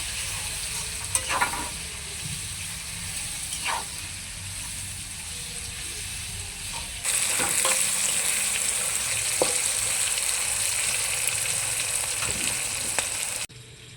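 Onion and capsicum stir-frying in a pan for a chilli dish, a steady close sizzle throughout with occasional scrape and stir clatter, growing louder and brighter midway.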